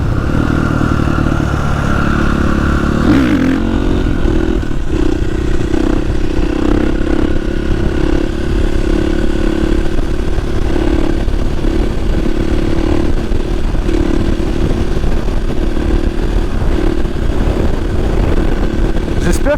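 Harley motorcycle being ridden, its loud engine revving and rumbling continuously close by, pitch rising under acceleration with rough clattering texture and wind noise throughout.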